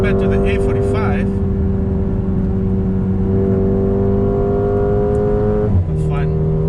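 A Mercedes-AMG A35 pulls hard around the Sepang circuit, its engine droning loud and steady from inside the cabin as the pitch climbs, then dips sharply at a gear change before rising again, with a voice faintly underneath.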